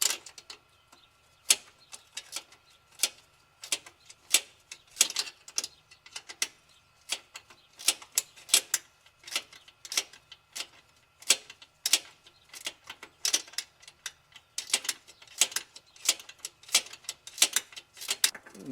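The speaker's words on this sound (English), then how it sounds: "I have a 10 millimeter socket here with my quarter inch ratchet." A quarter inch ratchet with a 10 mm socket undoes a bolt on a Toyota Prius, crisp close clicking pawl ticks in uneven bursts over nearly twenty seconds, with no talk.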